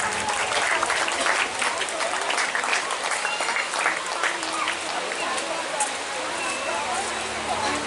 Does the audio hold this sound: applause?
yes